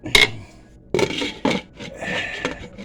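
A metal lid clinks down onto a cooking pot of meat simmering on the stove, with a few sharp clattering taps spread over a few seconds and no talk over them.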